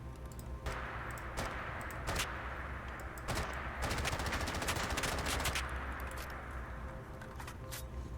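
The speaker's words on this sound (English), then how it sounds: "As you can see, it shoots pretty smooth, nice fast rate of fire" A modded rifle in Fallout 4 fires in rapid, steady bursts, its sharp cracking shots close and loud over a continuous background hum, with brief pauses between strings of fire.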